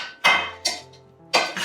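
Chopped heritage carrots, parsnips, swede, celery and onion get scraped into a pan in three sharp metallic clatters, separated by brief ringing decays, close and loud with no talk.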